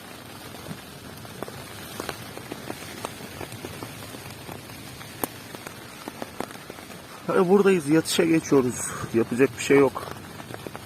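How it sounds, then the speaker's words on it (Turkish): Heavy rain patters steadily on a camping tent during a bicycle tour, a dense scattered drumming of drops heard from inside, with people talking close by in the latter part. "Abi biz çadıra geçtik. Fena yağmur geldi."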